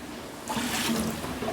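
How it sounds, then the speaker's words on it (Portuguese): Water pouring from a public spring fountain, a short, steady splashing rush with no voices. "E olha só o pessoal pegando água."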